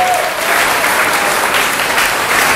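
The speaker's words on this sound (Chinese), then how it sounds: "请大家给一个掌声。" An audience applauds at a magazine's tenth-anniversary party, with dense, loud, sustained clapping throughout and no pause.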